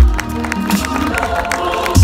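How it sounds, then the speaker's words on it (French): Crowd cheering and clapping for a cyclist at the French mountain bike championship at Alpe d'Huez, a steady busy roar of spectators throughout. "c'est les applaudissements pour Lynn Burquier"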